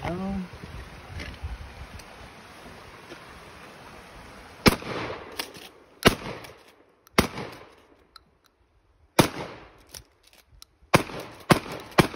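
A Remington 870 pump shotgun fitted with a Wilson Combat extension tube fires seven rounds outdoors. The sharp, loud blasts come at uneven intervals, with pump racking and quieter handling noise between shots.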